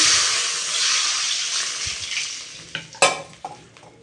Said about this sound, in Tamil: நெய் கொஞ்சம் விட்டுட்டு பட்டை இந்த மாதிரி சும்மா ரெண்டு மூணு போட்டாலே போதும் போட்டு இந்த மாதிரி வெடித்து வரையில்